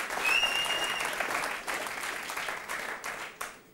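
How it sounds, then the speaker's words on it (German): Studio audience applause at a German car-themed quiz show, a dense wash of clapping that starts loud and holds steady before thinning slightly toward the end, with a faint whistle near the start. "ihr dürft ruhig klatschen."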